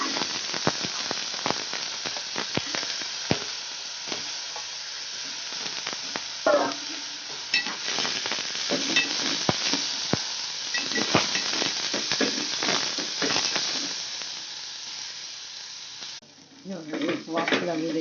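Sprouted black peas sautéing in a pan with red chilli powder, a steady close sizzle with intermittent stirring clicks, and a voice briefly speaking near the end.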